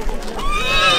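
A horse whinnies in a long, rising and falling neigh at a spring fair horse presentation, close and loud over a steady background.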